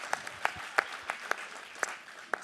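Scattered claps from a small audience ring out in sparse, uneven bursts, about a half-dozen distinct sharp hits over a thin background rather than a full cheering ovation.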